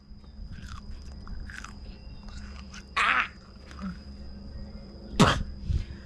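Someone chewing raw water spinach, with a few loud crunchy bites standing out over softer chewing in a quiet room, close to the mic, no talk.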